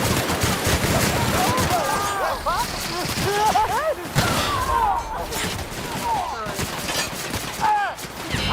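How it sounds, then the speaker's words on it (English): Gunfire in The Outer Worlds rattles in rapid bursts and single shots throughout, mixed with game effects and a voice speaking over the fighting. "Gunfire"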